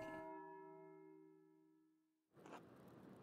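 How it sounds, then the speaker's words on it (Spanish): A monastery church bell rings for sext in the medieval game Pentiment, one deep resonant strike ringing out and slowly fading over about two seconds before a louder wash of ambient noise takes over. "Esa era la campana de la sexta."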